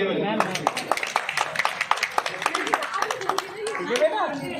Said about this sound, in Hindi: चलिए लावण्य के लिए भी एक बार तालियां बजाएं।